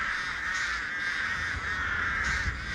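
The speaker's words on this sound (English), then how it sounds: "Okay, these crows, are they going to injure me or what?" Harsh crow caws repeat from a flock of crows in the horror game Dead by Daylight, the rasping calls layered and fairly close over a low, rumbling ambient drone.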